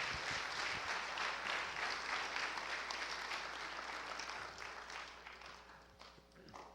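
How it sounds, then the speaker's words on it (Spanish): A church congregation claps steadily during a sermon, a dense, soft patter of applause heard from some distance that gradually fades. "un aplauso."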